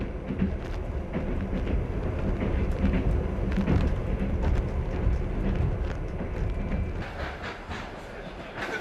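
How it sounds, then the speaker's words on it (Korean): Steady low rumble and rattle of a Trans-Siberian Railway train rolling along the rails near Ulan-Ude, continuous and fairly loud, with faint voices mixed in. "열차는 또 다른 목적지를 향해 달린다."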